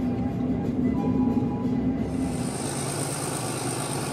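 A tourist train in Ecuador runs along its rails, giving a steady low rumble with clattering wheels and a faint high whine that grows partway through.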